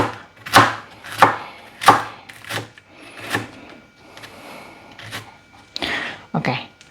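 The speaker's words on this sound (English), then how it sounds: "you can slice small like this" A knife slices homegrown bitter gourd into small pieces on a board, giving a series of sharp, irregularly spaced chopping taps, close and distinct, with faint talk in the background.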